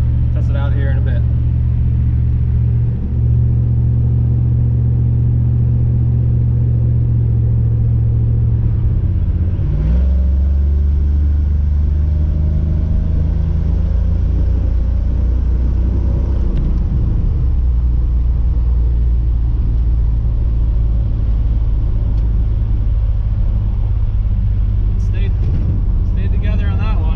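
A car engine warms up at around 1500 RPM, a steady, loud, low rumbling drone with occasional shifts in pitch. Someone talks over it throughout.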